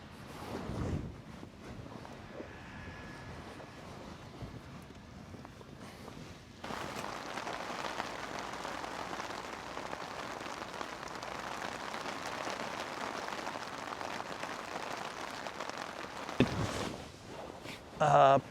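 Rain falls steadily onto a beach shelter in a continuous near hiss during UK shore fishing, with a brief louder patter near the end and no speech over it.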